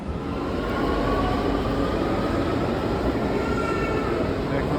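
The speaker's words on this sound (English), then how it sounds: "Back on the metro." Rome metro train in motion, a loud, steady rumble and rattle of the carriage with constant broadband roar and faint squealing tones, heard from inside throughout.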